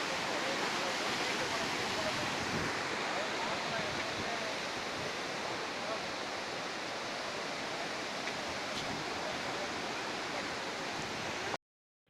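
A large volume of flowing water rushes past in a continuous broad roar, steady and fairly loud throughout before cutting off abruptly at the end.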